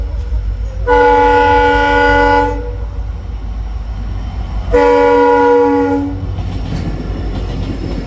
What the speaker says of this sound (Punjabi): ਟ੍ਰੇਨ ਆ ਗਈ